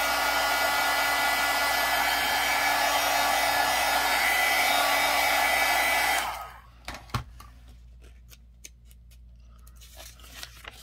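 Hair dryer blowing steadily and loudly at close range over junk journal pages for about six seconds, then switching off, leaving faint paper rustles and small handling taps.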